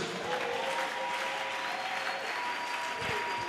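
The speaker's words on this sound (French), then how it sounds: "Est-ce qu'on peut acclamer Jésus?" A church congregation applauds steadily throughout, a dense, loud wash of clapping from many hands filling the space.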